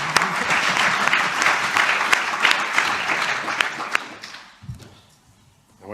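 Loud, dense applause from a large audience at a fintech summit in Edinburgh fills the room for about four seconds, then quickly dies away into near silence.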